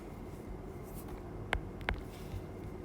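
Chalk or marker taps and strokes on a classroom board during a maths lesson on completing the square, with two sharp close knocks over faint steady scratching in a quiet room.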